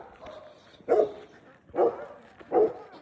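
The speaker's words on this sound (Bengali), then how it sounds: "প্রত্যেকটা বাড়িতে আপনি কুকুর দেখতে পাবেন" A house dog barks three times in spaced, moderately close woofs, with only a faint background between barks.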